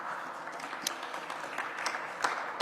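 Audience applause at a Cleveland press event, a steady wash of many hands clapping at moderate distance, with scattered sharper claps rising above the crowd throughout.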